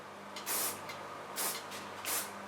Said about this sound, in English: So now I take an ultra soft hairspray.